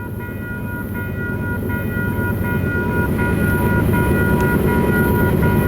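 Locomotive bells clang steadily over the loud, rumbling roar of a passing train, growing slightly louder throughout.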